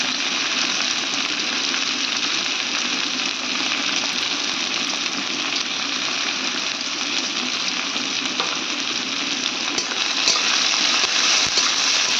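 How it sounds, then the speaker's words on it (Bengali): Chopped onions fry in hot oil with a steady, dense sizzle that holds evenly from start to finish, close by, with no talking over it. "এবার আমার এই কাটা পেঁয়াজগুলো আমি ভালো করে লাল লাল করে ভেজে নেব।"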